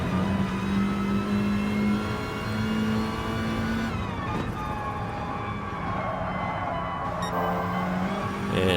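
A front-wheel-drive Volkswagen race car on soft tyres laps Brands Hatch in the video game GT Sport, its engine droning steadily, rising and falling with gear changes amid other cars' engine noise.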